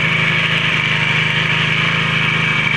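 A 4-stroke grass cutter engine running during break-in hums steadily and close up, with an even buzzing drone and fine rhythmic pulsing, no voices.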